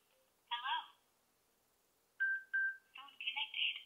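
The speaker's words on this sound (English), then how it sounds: "let me turn the unit on here." A Sena 20S Bluetooth motorcycle headset powers on with short electronic beeps and tones: one sweeping chime, a pause, then two quick beeps and a rising tonal sequence, near and clean.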